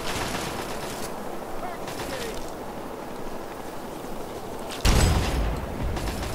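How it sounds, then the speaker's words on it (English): Gauss rifle gunfire in Fallout 3 rings out in loud bursts over a dense, noisy game battle, with one heavy blast near the end standing out above the steady roar. "Get my Gauss rifle out"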